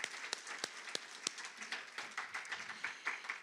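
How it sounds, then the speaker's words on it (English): An audience applauds at a college hall of fame ceremony for a retiree, a dense patter of many hands clapping at moderate volume with a few sharper individual claps standing out. "We can clap for that."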